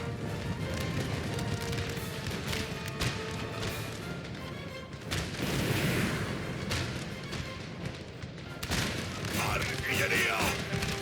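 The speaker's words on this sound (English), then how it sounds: "Come on, cannon." Cannon artillery fire in Napoleon Total War: booming cannon blasts and battle rumble throughout, thick and continuous, with voices talking over the din.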